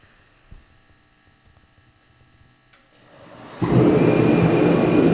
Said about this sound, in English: Heater's about to turn on.